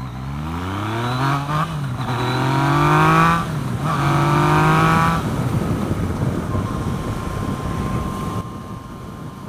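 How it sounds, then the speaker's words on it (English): A motorcycle with an aftermarket exhaust pipe accelerating nearby, engine rising through several gear changes with a loud, rising exhaust note, then settling into a steadier cruising drone. "Love the sound of this pipe."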